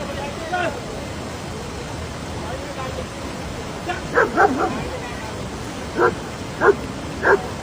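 A dog barks at a tiger in a sharp, close series of loud barks in the second half, a few quick yaps followed by evenly spaced single barks over steady background noise.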